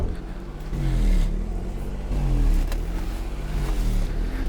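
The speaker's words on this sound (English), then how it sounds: "Yeah, that's what this car does. Revs up and down." Abandoned Daihatsu car that has sat unused for over a year, its engine idling roughly and revving up and down by itself in slow surges, close by and steady throughout.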